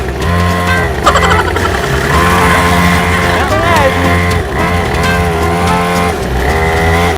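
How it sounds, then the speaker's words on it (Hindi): A 49cc mini dirt bike engine runs with a buzzing, steady drone that rises and falls slightly, loud and close, with other people and background commotion around it. "गाड़ी करते हैं ऑन, हो गई है स्टार्ट, चलते हैं"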